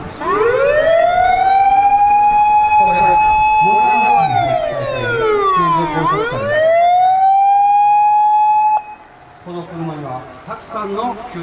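A loud ambulance siren wails up and down at close range during a spring fire department training drill in the Konan regional area, sweeping through several long cycles before cutting off abruptly; faint voices follow.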